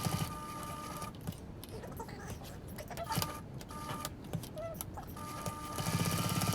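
A sewing machine stitches a sling bag, then back tacks to lock the seam, giving bursts of rapid mechanical whirring with short pauses and a louder run at the end.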